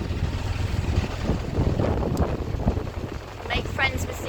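Gusts of wind buffet the microphone with low rumbling bursts beside a narrowboat, continuous and uneven, while someone speaks faintly underneath.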